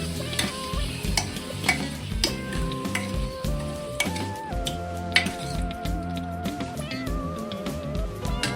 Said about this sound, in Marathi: याला आता कालवून घ्यायचं।